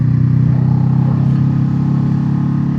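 Steady, loud engine drone of a Honda CBR500R motorcycle underway, a continuous low rumble with no talk over it.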